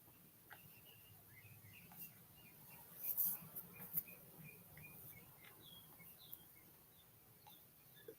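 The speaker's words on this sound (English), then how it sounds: "Those are just wild birds in the tree." Faint, scattered wild bird chirps and tweets from a tree outdoors in Sacramento, California, short high calls spread across a low steady background rumble.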